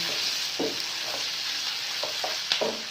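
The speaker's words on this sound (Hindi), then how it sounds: "30 सेकंड के लिए हम ये टमाटर को और सब्ज़ मिर्चों को फ्राई करेंगे।" Tomatoes and green chillies fry in a pan with a constant hissing sizzle, and a few soft stirring scrapes are spaced through it; nobody speaks.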